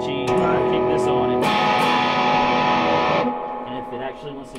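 An electric guitar chord through a distortion and fuzz pedal rings out heavily distorted and fuzzy, then a second crunchier strum sustains before cutting off.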